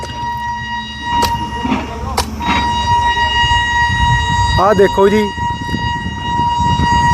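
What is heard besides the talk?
train horn as a train arrives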